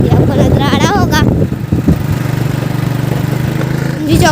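A motorbike ridden near a railway station chowk outside Lucknow, its engine putting out a steady, throbbing idle-to-cruise drone that runs through the clip, with voices speaking over the start.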